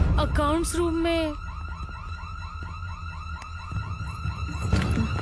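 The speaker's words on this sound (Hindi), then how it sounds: "सायरन क्यों बज रहा है?" An alarm siren wails in a repeating rising-and-falling cycle inside an office building in a comedy film. It follows a brief burst of voices and stays steady and prominent to the end.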